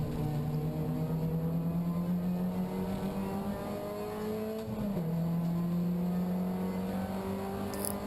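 Ford Puma race cars racing at Oulton Park, engines holding a steady loud drone with a brief dip and gear change midway, then pulling on continuously with no talk over them.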